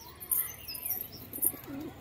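Pigeons at a loft, among them a white-and-green bird, give soft low coos under chirps and faint rustling, brief and fairly close.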